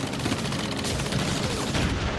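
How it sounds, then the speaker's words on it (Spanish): Dense gunfire bursts broadcast over loudspeakers by special forces to fake a larger attack during the Normandy D-Day landings, a continuous rattling fusillade without pause. "las fuerzas especiales emitían el sonido de disparos a través de altavoces"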